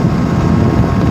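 Steady wind roar buffets the rider on a Honda Rebel 250 motorcycle on a highway in the Palouse, a constant broadband rush filling the whole clip with no breaks.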